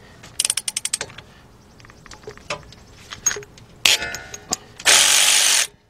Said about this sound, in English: Then get your 13-millimeter shallow, 3/8 drive, 3/8 drive ratchet.